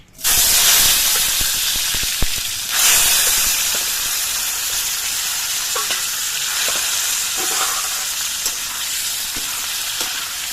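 Potato pieces sizzle steadily in hot oil in a pan seasoned with bay leaves and whole cumin. The hiss stays loud and continuous throughout, with a few spoon-stirring clinks and scrapes.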